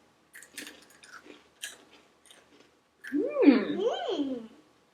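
Someone bites and crunches a crunchy cheese kids' snack, with a few crisp, sharp bites close to the mic, then a voice speaks over the chewing.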